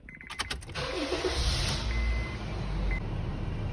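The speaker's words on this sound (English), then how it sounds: "we have to start the engine just for a few seconds" A car engine cranks and catches after an oil change, then idles steadily and fairly loud for a few seconds with a low rumble and no talk.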